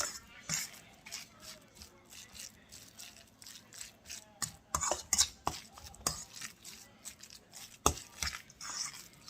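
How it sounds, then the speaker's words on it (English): Spices worked into minced meat by hand for a homemade burger, with soft, irregular squishing and rattling close by that grows busier toward the middle, along with a few light clinks of a bowl. "we mix the spices with our minced meat"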